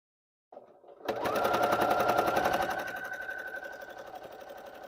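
Close, steady rapid whirring of a sewing machine fitted with a walking foot as it quilts fabric, kicking in after a brief soft start and running continuously, a little quieter toward the end.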